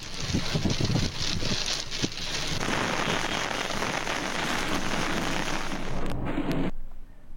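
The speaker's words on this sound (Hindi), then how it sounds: "गवादर में एक बार फिर बारिश शुरू हो गई है" Torrential rain in Gwadar, a dense, loud and steady downpour drumming on surfaces with some wind noise, continuous for several seconds before cutting off abruptly at the end.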